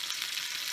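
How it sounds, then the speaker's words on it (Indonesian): Boneless, skinless chicken fillet fries in a little oil, giving a steady, bright sizzle that fills the whole short moment with no voices. "Kita goreng dengan sedikit minyak saja sebelumnya"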